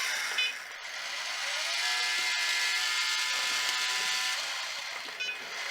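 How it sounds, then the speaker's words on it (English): Motors of an iOptron SmartEQ telescope mount drive smoothly, a steady close whirring hum that swells in and holds with faint mechanical ticks at the start and end, no talking. "The motors are not there to just sort of bind, they want to be moving nice and smooth like this."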